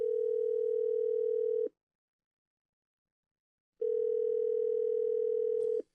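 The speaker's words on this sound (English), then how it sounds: "simulating the audio I'd hear when the phone's ringing" A steady simulated electronic telephone ringing tone from a Virtual Telephony Server sounds in two long bursts separated by about two seconds of silence, clear and close.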